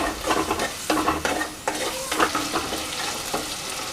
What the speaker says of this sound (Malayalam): ഉള്ളി ഇട്ട് കൊടുക്കാം. എന്നിട്ട് നന്നായി ഒന്ന് വഴറ്റിയെടുക്കണം.